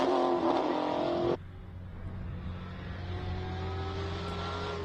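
A Porsche GT3 race car pulls away from the start line at a classic car speed event in Cape Town, its engine loud and rising at first, then dropping to a steadier, more distant drone.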